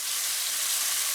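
Onions and scallions sizzle in a pan for a Guyanese fish curry, a steady close hiss of frying with no pauses in the brief moment.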